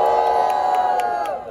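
Rap battle audience at Batalha Da Leste cheering and shouting loudly for Peter do Busão, a sustained roar of many voices that fades slightly at the end.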